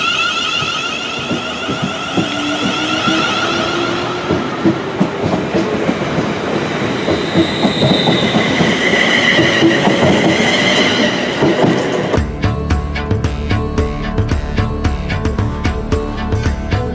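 A train runs on the Glasgow railway near Queen's Park, with wheels rumbling and clicking over the rails and a faint squeal now and then. It is loud and steady, then turns into harsher, tighter clatter toward the end, and no one speaks.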